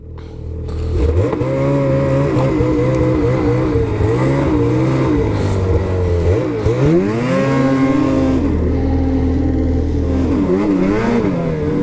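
A 2024 Ski-Doo XRS snowmobile engine revs loudly and continuously through a wheelie on a snowy trail, its pitch rising and dipping with throttle changes.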